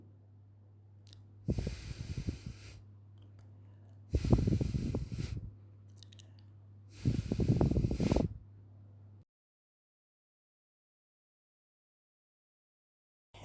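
Congested nasal breathing with no pushing or straining, three slow, fairly loud snorting breaths through a stuffy nose at close range, separated by quiet pauses, then silence.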